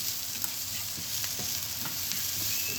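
Onions and garlic cloves frying in a pan for Alexandrian-style fava beans, a constant bright sizzle with soft intermittent scrapes and taps as they are stirred, close and steady.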